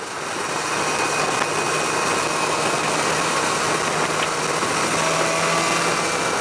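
A BMW S1000XR motorcycle cruising at highway speed, its engine a steady, dense roar blended with wind rush, loud and constant with no pauses.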